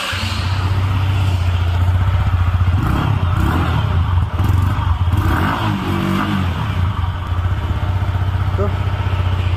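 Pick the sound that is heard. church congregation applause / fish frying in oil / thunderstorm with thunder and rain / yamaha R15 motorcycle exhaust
yamaha R15 motorcycle exhaust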